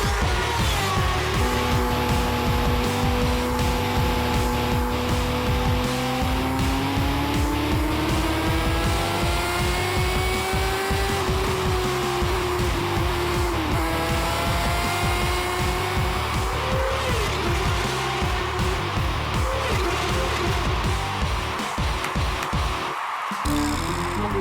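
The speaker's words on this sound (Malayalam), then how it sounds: "കീക്കോ തന്റെ സൂപ്പർ സ്പീഡോ കാറുമായി പാർട്ടിസിപ്പേറ്റ് ചെയ്യുന്നതാണ്" A cartoon super-speed race car roars steadily for over twenty seconds, its engine pitch rising and falling with occasional tire squeals, loud and continuous with no talk.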